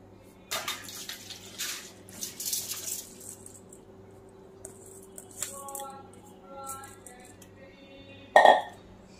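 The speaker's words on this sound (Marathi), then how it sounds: "मी हे तांदूळ पुन्हा एकदा स्वच्छ पाण्याने धुतलेले आहेत" Rice soaked for three days is rinsed again in clean water for anarse, with intermittent sloshing, squishy handling and trickling, ending in one louder splash.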